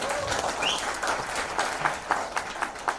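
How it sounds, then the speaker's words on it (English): Audience applause for a team at a company launch event, a steady wash of clapping lasting a few seconds with a few sharper individual claps toward the end. "So there is a round of applause for them."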